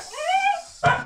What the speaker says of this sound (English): Sorry for the noise from the dog